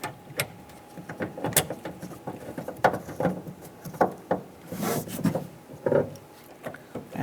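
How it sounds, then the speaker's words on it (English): A Torx screw being driven into the door of a 2002-2008 Dodge Ram 1500 during a rear door harness replacement, heard as close, uneven rubbing and ratcheting scrapes with small knocks, and no voices. "we need to go ahead and get our Torx bit or Torx screw installed right here."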